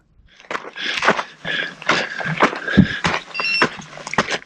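A Garmin handheld GPS sounds a waypoint alert beeping on a route, a few bright repeated tones heard close amid footsteps and rustling movement outdoors.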